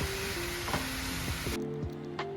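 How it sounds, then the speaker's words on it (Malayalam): Onion, ginger and garlic sauté in a hot pan with a continuous close sizzle, broken by occasional soft scrapes and knocks from stirring. "ഇനിയിപ്പോൾ എല്ലാതും കൂടി നല്ലോണം ഒന്ന് വഴറ്റിയിട്ടെടുക്കാം."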